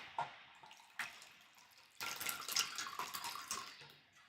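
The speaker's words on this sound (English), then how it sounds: "Just in time to listen to me pour some water into a cup." Water pours into a cup at home: a few short splashes first, then a sustained burbling stream with drips that fades near the end, close and fairly quiet.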